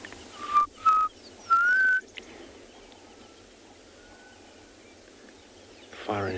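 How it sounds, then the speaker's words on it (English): Black cuckoo shrike calling on a South African safari, three short clear whistled notes early on, then faint distant calls over low bush ambience. "So that is black cuckoo shrike."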